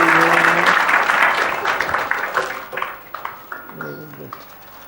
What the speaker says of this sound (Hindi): छोटे बच्चों का बर्थडे है, ताली बजाओ